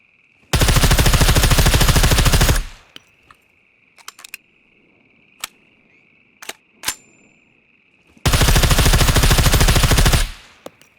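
An RPK machine gun fires in the video game Scum, two long sustained bursts of rapid automatic fire, loud and close, with a string of sharp metallic clicks and single clacks between them.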